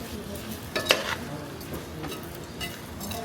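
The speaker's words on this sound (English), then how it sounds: "Mix all of my rice and meat in like that." Rice and meat being stirred together in a pot for jambalaya made with tomato paste and a ranch seasoning mix, a close scraping stir with a faint sizzle and a couple of louder clanks of the utensil against the pot.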